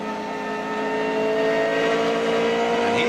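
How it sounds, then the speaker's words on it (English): BMW M3 GTR race car with a V8 engine, in the class-leading GT entry at the 2001 Petit Le Mans at Road Atlanta, holding a loud, steady high-revving drone that rises slightly as it pulls past. "This is Bill Auberlen once again in the class-leading car"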